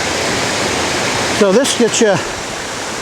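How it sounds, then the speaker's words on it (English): A waterfall on a small river near Helen, Georgia, gives a steady, close broadband rush, with someone speaking briefly over it. "a really, really good view of the waterfall."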